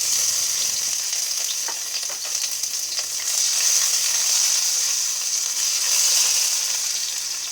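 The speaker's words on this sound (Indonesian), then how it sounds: "ini ada bawang putih sama bawang merah, itu ada jahe sedang dimasukin goreng" Garlic, shallots and ginger frying in a pan for a clam dish with oyster sauce: a loud, continuous close sizzle with small crackles and occasional stirring, steady throughout.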